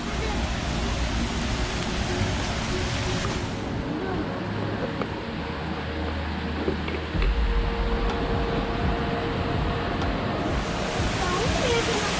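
Small waterfall in a green natural spot, a steady broadband rush of falling water that holds loud and constant, with a voice speaking over it.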